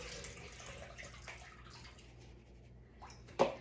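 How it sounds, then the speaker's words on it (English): Soaked raisins are strained to drain off their soaking water, giving a soft, low trickle and splash that builds near the end into a brief louder splash or clatter close by. "First I'm going to do is strain these raisins and get the water off."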